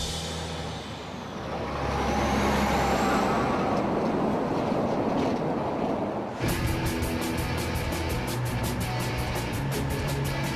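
An Australian road train, a 53-metre, 4.9-metre-tall articulated truck hauling goods across the outback, rumbles loud and steady, and a rapid mechanical rhythm joins midway.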